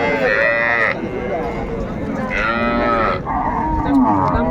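Cows and calves lowing loudly and repeatedly at a busy rural cattle market in Raniganj, Bangladesh, where cows are sold with calves; long drawn-out moos overlap one another against a steady crowd murmur.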